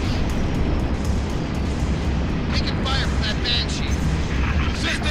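Ship gunfire and explosions rumble through a Halo Reach space battle, a dense, continuous roar of booms and blasts with bursts of crackling fire, heard alongside players talking.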